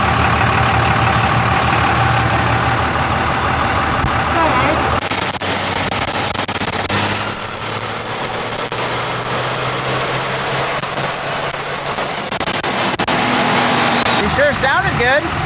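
Truck engine roaring on a dyno at an event, a loud sustained drone whose pitch climbs steadily as it revs, then drops off abruptly, with voices of people talking over the noise.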